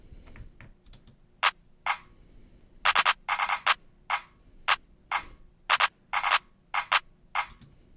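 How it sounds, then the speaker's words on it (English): A crisp trap-beat clap sample, a sharp, bright hit repeating in a syncopated pattern of single and clustered strikes, loud and dry against a low background, with no voices. "So that's what my clap sounds like."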